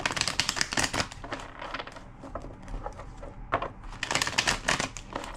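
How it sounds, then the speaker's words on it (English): A deck of tarot cards being shuffled by hand, giving bursts of riffling, crisp paper flicks with short pauses in between, close and moderately loud. "Two more shuffles."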